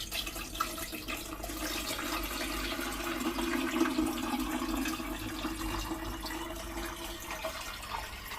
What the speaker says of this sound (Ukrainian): Так, наливаємо 2 літра води.